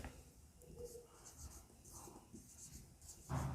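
A pen scratches on paper as notes are written by hand, a soft, close scribbling heard quietly and continuously over a faint room background, ending in a brief louder bump.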